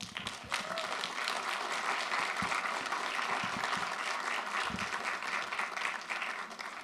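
Sustained audience applause fills a school board of education meeting, a steady dense patter of many hands clapping at moderate volume for several seconds, with faint scattered voices underneath.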